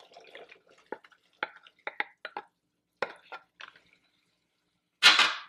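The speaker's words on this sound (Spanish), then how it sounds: "Y ahora sí agrego los ejotes." Green beans are dropped into a pan with water, making a series of light, scattered clicks and taps close by, followed by a sudden louder splash near the end.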